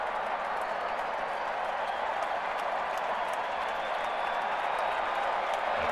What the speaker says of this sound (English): A gigantic crowd at the Dome tonight